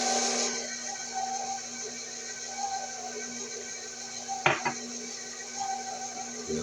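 Flour being mixed into blue raspberry pound cake batter brings scattered clinks and a sharp knock of a utensil against the bowl, over a steady background hum.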